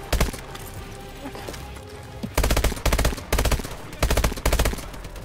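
Automatic gunfire in Call of Duty: Advanced Warfare comes in several sharp, loud bursts of rapid shots, with a brief lighter volley early and four heavy rattling strings in the second half.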